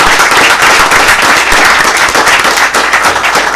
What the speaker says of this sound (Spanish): Ese es el aplauso para ellos.